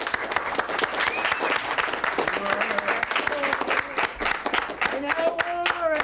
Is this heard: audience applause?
yes